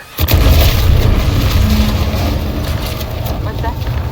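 A deep, rumbling blast from an explosion in The Outer Worlds 2 bursts suddenly and then rolls on as a heavy low roar with faint crackling debris.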